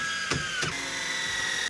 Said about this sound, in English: I'm gonna add a couple screws just to temporarily hold this in place.